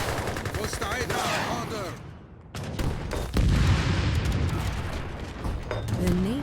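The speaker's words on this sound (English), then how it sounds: "Oh my gosh, they're just like straight artillery spam." Artillery and Congreve rocket fire in the Age of Empires III Definitive Edition strategy game, with rapid overlapping cracks and booms, dense and loud, and brief unit voice lines spoken over the barrage.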